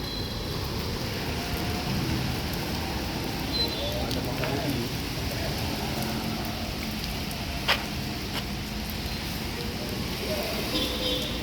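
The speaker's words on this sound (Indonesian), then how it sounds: "Cuaca kondisi lagi hujan." Steady rain falls around a morning gathering of buses of various makes, classes and models, a dense continuous hiss with a few brief sharp knocks and faint background voices.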